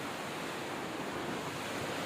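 Sea waves heard from a coastal trail, a steady wash of surf blended with wind noise, faint and distant throughout.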